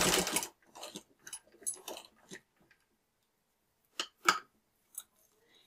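Older sewing machine stitching a martingale collar: a few short mechanical stitch bursts and clicks separated by pauses, close and fairly quiet.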